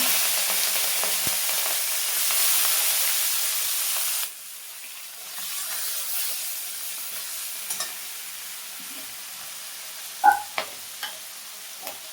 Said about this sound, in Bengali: এখন চিংড়ি মাছগুলো ভাজা ভাজা হয়ে গেছে